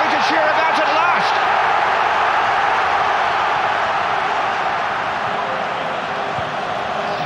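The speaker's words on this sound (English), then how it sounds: "the fans have got something to cheer about at last" Football fans roar and cheer after a Newcastle United goal against Manchester United, a loud, continuous stadium crowd swell that holds steady throughout.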